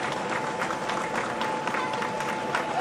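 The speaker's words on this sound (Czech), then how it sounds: "Váš potlesk odmění tyto borce za dnešní výkon." A crowd applauding medalists at a road cycling race, steady dense clapping held at an even level for a few seconds, with a voice faintly audible in the background.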